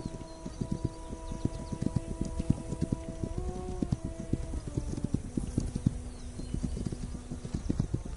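Horses clip-clop in the video game This Land Is My Land, with rapid, irregular hoof beats close by over a soft ambient backdrop and a faint buzzing insect.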